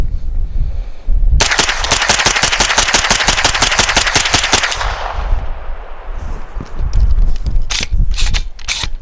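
A Sig P320 PCC carbine fitted with a Matador Arms Mag X adapter fires at the range: a loud rapid string of shots, a pause, then a few scattered shots.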